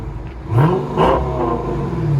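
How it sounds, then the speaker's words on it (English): A Dodge Charger Scat Pack with a 6.4L HEMI V8 and aftermarket exhaust revs close by, two sharp throttle blips swelling over a steady rumbling idle. "Listen to that Scat Pack SRT8."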